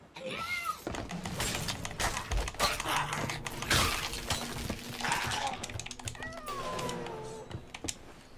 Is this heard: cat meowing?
yes